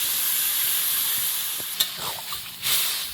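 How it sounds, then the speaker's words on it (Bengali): Pointed gourd and potato with spices sauté in a pan with a soft, steady sizzle and hiss, broken by a few light clinks and stirring knocks near the end. "মশলার সঙ্গে মিশিয়ে আরও একটু পটল আলুটা কষিয়ে নেব"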